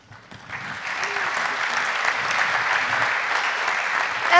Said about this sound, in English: I think they deserve some applause.